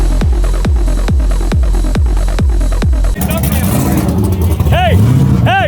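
An 850hp burnout car lined up against an 800hp pro drift Nissan S15 Silvia: loud rhythmic engine bouncing off a limiter in even pulses, then a roaring full-throttle launch with rising revs and gear changes, voices shouting over it.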